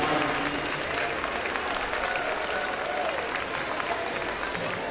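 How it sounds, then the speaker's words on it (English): A basketball arena crowd at a women's game applauds steadily for Bobby Martin, a dense, sustained wash of clapping filling the hall at even loudness throughout. "one more round of applause for our very Bobby Martin"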